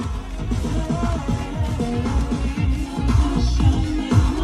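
Music plays through the 10-speaker, 800-watt Bose sound system inside a Mazda CX-5, with a steady, full sound and heavy bass filling the cabin and no talking.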